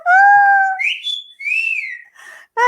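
A person whistles a short melodic phrase of clear, sliding notes, loud and close, with brief gaps between phrases and no talking.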